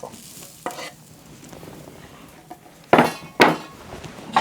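Tomatoes and onions dropped into a hot pan with steak, giving a low steady sizzle broken by a few louder bursts and light utensil clinks, with no one talking.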